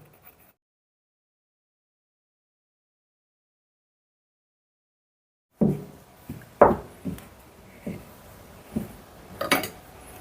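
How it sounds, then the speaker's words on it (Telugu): A knife scraping and tapping on a work surface while trimming excess dough from kajjikaya pastries, a run of sharp knocks and clinks after a long silence. "ఈ ఎక్స్ట్రా ఉన్న పిండిని కత్తితో తీసేద్దాం"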